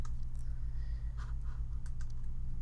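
Computer keyboard typing and mouse clicks at a desk during modeling software work, a short run of light, quick plastic taps over a low steady hum, close and unaccompanied by speech.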